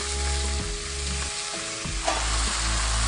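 Squid sizzling and frying in a pan for Filipino adobo, a steady close hiss with a few soft stirring knocks and scrapes throughout.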